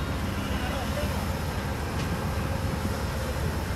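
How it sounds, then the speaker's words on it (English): Amtrak Heritage unit #156, a locomotive in 1971 paint, sits at a station about to depart, giving a steady low diesel rumble with faint voices in the background. "Green over red, Amtrak's about to leave the station."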